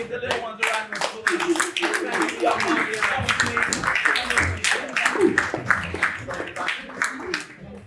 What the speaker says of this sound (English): Give the little ones a round of applause.